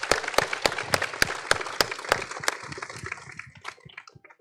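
An audience applauds at a motivational results celebration honoring a woman who became a doctor: a run of sharp, close claps over a dense patter that thins and fades out over a few seconds.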